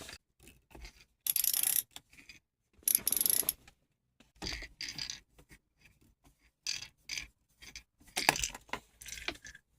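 A ratchet works screws out of a car's broken radio, heard as bursts of rapid clicking ratchet strokes alternating with short pauses and small metallic handling noises, close and fairly quiet.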